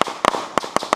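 Several sharp firecracker bangs pop in quick, irregular succession at an outdoor family reunion in July, loud and close, with no talking.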